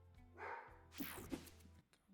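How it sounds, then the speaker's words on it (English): Faint, distant barking from a pet dog indoors: two short bursts in quick succession against a quiet room background, with no talking. "my dog is barking so much"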